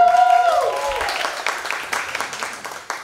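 An audience claps at a girls' basketball signing day in a school gym, a moderate burst of applause that follows a voice at the start and gradually thins out over a few seconds.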